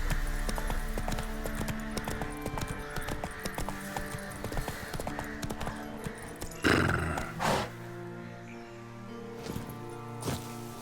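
Roach, the horse in The Witcher 3, gallops with rapid clip-clopping hooves and neighs briefly partway through, all over a bed of game sound and music, fairly close and without speech.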